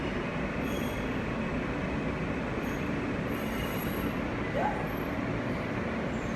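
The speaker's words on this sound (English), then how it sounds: "This is a World Trade Center bound E-train." An R160 E subway car rolls along underground toward Columbus Circle with a steady broadband rumble of wheels and track, faint high squeals above and a brief tone midway.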